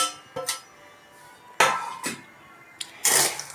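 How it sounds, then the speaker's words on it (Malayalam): Peanuts tipped into hot sand in a kitchen pan for roasting, giving several sharp clattering bursts with short pauses between, close and fairly loud, with no talking. "ഇനി നമുക്ക് കപ്പലണ്ടി നമ്മുടെ മണലിലേക്ക് ഇട്ട് കൊടുക്കാം."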